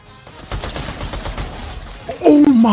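Assault rifle fire in Fortnite: a rapid burst of close, loud shots at a steady rhythm, followed by a brief rising tonal effect at the end.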